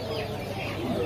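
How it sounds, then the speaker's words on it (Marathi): Village chickens at a market cluck repeatedly close by, a steady run of short clucks over a busy background. "गावट्या कोंबडे पण आहे."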